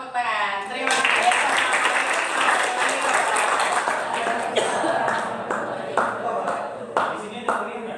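Classroom applause after a student group's presentation: a burst of clapping from the room that carries on steadily, with a few louder individual claps and some coughs near the end.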